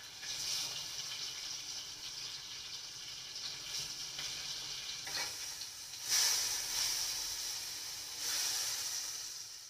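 Eggplant slices frying in hot oil give a steady, fairly faint sizzle and hiss, with a few louder spitting bursts near the end.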